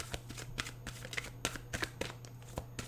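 Tarot cards riffle and slide in quick, soft bursts, a close shuffling rustle repeating over a low steady hum.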